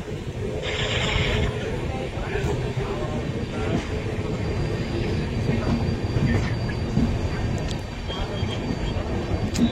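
A train passing on the adjacent track at Dudhsagar station in the Braganza Ghat during monsoon, a steady close rumble of wheels and cars with brief squeals, heard from a stopped train with a voice now and then.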